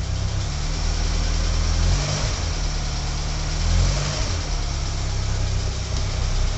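A 1980 Mini 1000 automatic's engine running steadily, a loud close drone with a slight dip and rise in revs partway through, no voices.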